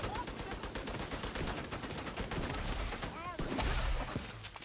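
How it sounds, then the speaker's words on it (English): Steady bursts of gunfire hammer at a turret in The Division 2 with a reanimated pistol build, the shots rapid and continuous with metallic impacts and a brief shattering sound midway. "I'm shooting the turret."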